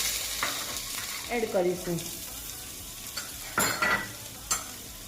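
Garlic and ginger paste frying in hot oil for manchow soup, a steady close sizzle with stirring scrapes and a few brief louder clatters.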